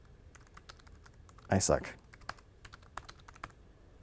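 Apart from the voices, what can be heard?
typing on Logitech Bluetooth illuminated keyboard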